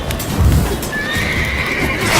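In Witcher 3, the horse Roach gives a loud close neigh over hoof clops, with a rising whinny tone trailing through the short clip.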